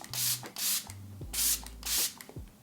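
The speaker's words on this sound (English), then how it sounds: "I'm using my Milk Pore Eclipse Matte Setting Spray" Milk Pore Eclipse Matte Setting Spray misted over a made-up face, four short hissing bursts in an even rhythm, close and soft, with faint low hum between the sprays.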